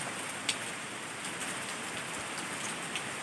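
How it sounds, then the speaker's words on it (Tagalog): Heavy rain pours steadily outdoors among trees in a continuous dense patter, with a few louder drops striking nearby; no voices. "Medyo ang lakas ng ulan"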